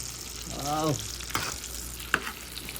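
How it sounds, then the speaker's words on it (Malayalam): Water bubbles and sizzles steadily in a pot nearby while camel meat is being cooked, with a brief rising whine and a couple of sharp utensil clinks. "അവിടെ വെള്ളം തിളക്കുന്നുണ്ട്"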